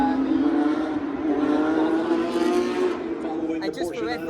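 Porsche race cars passing during a Formula 1 race weekend, a high rising engine whine that sweeps past loudly and fades, with a voice speaking near the end.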